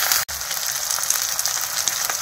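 Eggs sizzling as they fry in hot scallion oil for fried rice, a steady close crackle with a brief dropout near the start.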